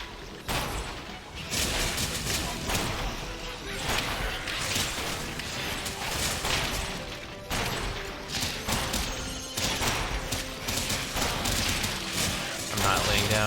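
Cannons fire amid combat in the action RPG Torchlight III, a dense run of booming blasts, crashes and thuds that keeps going the whole time over game sound, with someone talking now and then.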